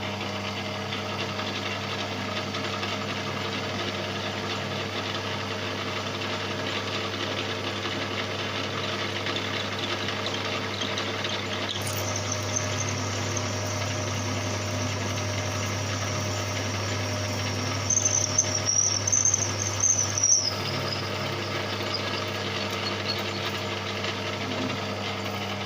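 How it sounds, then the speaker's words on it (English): A lathe runs steadily in a workshop while machining a BSA Bantam exhaust link pipe, giving a constant humming drone with a thin, high cutting whine for a few seconds late on. "You can hear the lathe working for its living."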